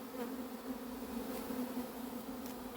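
A runaway honeybee swarm being settled into a hive in Ozoir-la-Ferrière, giving a steady, dense, close buzzing hum that holds even throughout with no talk.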